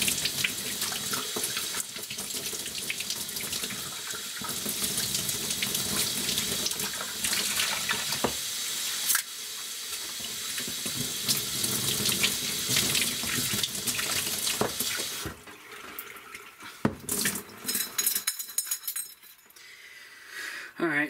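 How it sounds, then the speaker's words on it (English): Steady rush of water running from a faucet into a sink while a cup is rinsed, with occasional clinks, continuous and fairly loud before easing off near the end. "Might have to rinse that one a little bit more."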